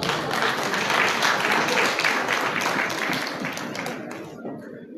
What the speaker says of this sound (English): Please clap for Dyson.